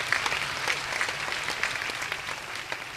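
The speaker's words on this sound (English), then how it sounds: "Give them a round of applause." Fairly quiet, even applause from an audience at a school UN Day event, clapping for students after their names are read out. The hall-wide clapping carries no talk.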